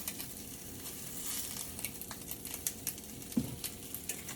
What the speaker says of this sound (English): the turkey bacon is getting a little crispy